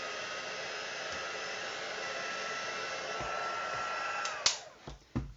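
A hair dryer blows steadily to dry alcohol spritzed onto a mixed media canvas, a constant close whooshing hum that cuts off near the end, leaving a few handling knocks.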